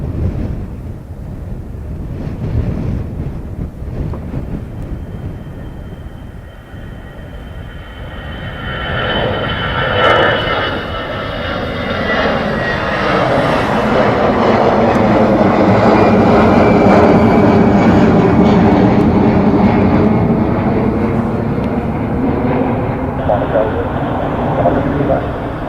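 A jet airliner takes off from Dublin Airport bound for Heathrow, its engine roar building from the start and swelling to a loud, sustained rush as it climbs out, with wind buffeting the microphone and radio chatter at times.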